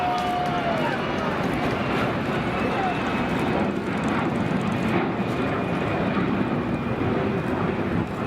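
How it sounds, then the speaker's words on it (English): A large aircraft carrying the Space Shuttle Endeavour, on its way to the California Science Center in 2012, roars steadily and loudly as it touches down, with a droning engine rumble throughout and a voice talking over it. "the moment a plane touched down carrying the Space Shuttle Endeavour"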